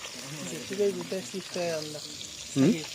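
Deshi koi fish fry in a pan with a soft, steady sizzle underneath, while someone talks over it throughout.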